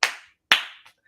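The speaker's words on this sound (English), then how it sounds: "You like a clap? I like the clapping." Two sharp, close hand claps about half a second apart, each decaying quickly into silence, followed by a faint soft tap.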